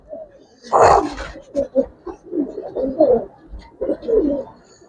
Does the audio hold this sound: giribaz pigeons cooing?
yes